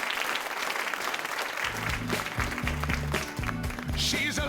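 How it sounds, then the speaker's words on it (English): Lively audience applause at a speakers' showcase stage event, a continuous crowd of clapping hands, joined after a moment by rhythmic, bass-heavy music playing underneath. "Let's give her some applause"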